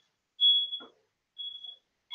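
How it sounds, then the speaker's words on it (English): A Kodama Trinus 3D printer gives off shrill, alarm-like electronic beeps: one long tone, a pause, a second long tone, then the start of a third, with a faint knock between the first two. "Wow, it sounds like a fire alarm."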